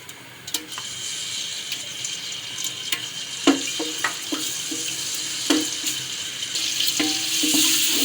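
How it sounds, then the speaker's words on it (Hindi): Ginger garlic paste spitting and sizzling in a cup of hot oil, a steady close hiss broken by sharp crackles and pops, with occasional clinks of a spoon stirring in the pan. "1 कप ऑयल के साथ ही मैं इसमें ऐड करूँगी अदरक लहसुन का पेस्ट।"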